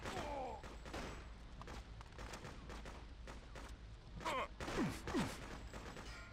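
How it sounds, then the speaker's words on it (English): AK-47 gunfire in the video game Freedom Fighters, scattered bursts and single shots echoing at moderate loudness across a noisy battle scene, with faint in-game sounds in between. "Switch back over to our tried and tested AK-47."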